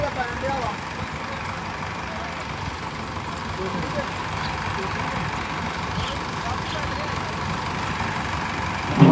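A tractor engine idles on a farm during maize silage work, holding a steady low rumble throughout while voices can be heard nearby.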